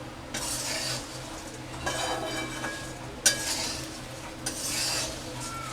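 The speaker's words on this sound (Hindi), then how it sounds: "इसे बस 5 मिनट तक और चलाइए, हमारा मुरमुरा बनकर तैयार हो जाएगा।" A spoon scrapes and rustles through puffed rice (kurmura) in a pan, with repeated stirring strokes and occasional sharp clinks against the metal, close and fairly quiet.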